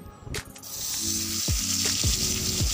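Fish rubbed with turmeric and salt, with some chopped onion, fries in hot oil, giving a constant bright sizzle with a few short squeaky tonal chirps rising over it.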